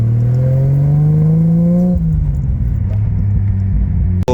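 A Nissan Skyline R33 engine revs loud and close, rising steadily in pitch for a couple of seconds, then dropping back to a deep, rumbling idle with a sharp click at the very end.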